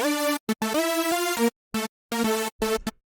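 Dry hardstyle saw synth lead layer with light detune and no processing, playing a choppy melodic riff of short stabs and held notes separated by brief gaps, loud and bright with dense buzzy harmonics.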